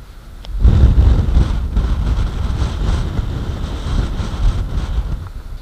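A strong, cold southerly wind blowing in Anapa, roaring and buffeting steadily into the microphone after a quiet start, loud and continuous with slight gusting surges throughout.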